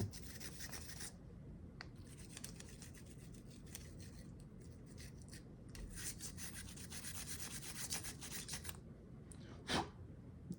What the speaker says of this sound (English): we're going to get our wire brush and we're just going to scrub that thing inside and out